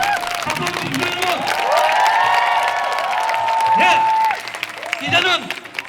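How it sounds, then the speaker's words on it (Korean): A crowd at an outdoor protest rally against a lead factory in Yeongju breaks into loud applause and cheering, with whoops and raised voices riding over the steady clapping throughout. "박수 주시면,"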